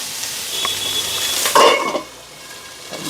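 Food sizzles in a hot pan while a utensil stirs and scrapes, with a louder burst of frying midway before settling to a steady hiss, during Indian cooking of chicken biryani and mutton liver fry.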